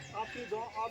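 Horses whinny along a mountain trail on the trek toward Tungnath, with short high neighs rising and falling over less than a second, close by and mixed with people talking.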